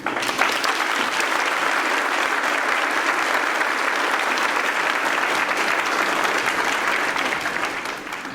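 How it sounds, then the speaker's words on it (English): A school audience at a fifth-grade moving-up ceremony applauds in a sustained wave of many hands clapping, loud and even for several seconds before tapering off near the end. "If we could all hold our applause until all the certificates have been received"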